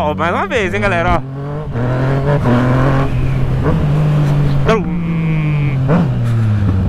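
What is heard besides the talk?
Yamaha MT-09 motorcycle popping when shifting gear while accelerating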